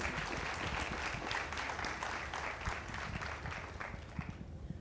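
Audience applause at a sales masterclass workshop: a soft, even patter of many hands heard from a distance, fading slightly at the close.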